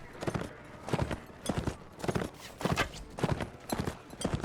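Rapid rhythmic hoofbeats of a galloping horse in the video game Mount & Blade: Warband, steady and fairly close, with repeated clopping patterns continuing throughout.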